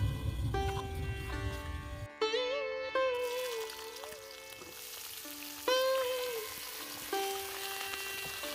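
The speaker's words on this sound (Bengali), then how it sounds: "পেঁয়াজ আর সবজিগুলো ভালো করে ভেজে নিয়েছি" Onion, beans and peas fry steadily in a pan, a continuous close sizzle under a loud musical backing that covers much of it.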